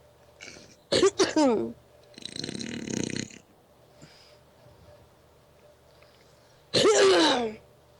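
A person sneezes, a sharp burst near the start followed by another loud sneeze later, separated by quieter indoor noise and a rustling stretch in between.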